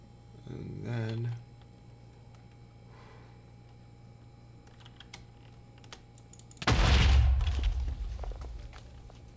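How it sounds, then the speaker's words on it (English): An explosion goes off in the Minecraft modpack GT New Horizons: a sudden, loud, low rumbling blast late in the clip, with light keyboard clicks and a short earlier noise around it. "gotta be careful about those explosions."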